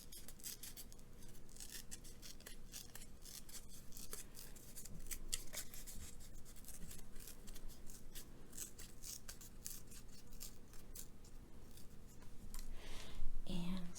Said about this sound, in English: So I am just going to rip right around this word.